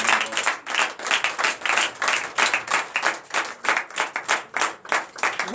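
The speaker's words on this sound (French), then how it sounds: "lève-toi sur tes pieds et donne l'acclamation à l'Éternel" A church congregation at a night deliverance and prophecy service claps in strong, rhythmic unison, loud, regular beats swelling and dipping steadily without pause.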